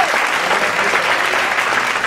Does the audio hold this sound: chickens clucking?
no